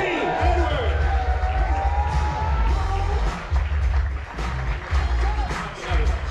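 An audience at a cruise ship show cheers and whoops loudly while a host talks over the noise, the crowd swelling and easing in waves.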